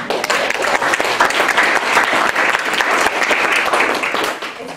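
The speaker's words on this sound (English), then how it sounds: "So we can give them a round of applause." An audience honoring conservation award winners, farmers recognized as Conservation Farmers of the Year, breaks into loud, sustained applause of many hands that tapers slightly toward the end.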